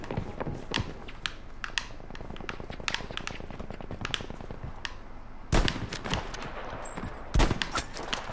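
Tank fire and gunfire in the Battlefield 5 video game: rapid bursts of shots crackle throughout, with two louder, heavier blasts later on, all moderately distant with no talking.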